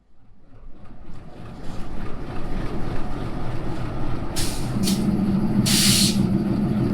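At Mongla rail station, a locomotive is shifted and coupled to carriages at the end of the line; a low rumbling engine idles and builds, then sharp bursts of air-brake hiss break out twice.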